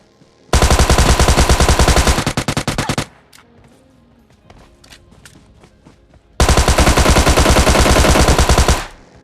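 Rapid automatic gunfire from the video game PUBG Lite: two long, loud sustained bursts of close machine-gun fire separated by a quieter stretch of scattered distant shots and footsteps.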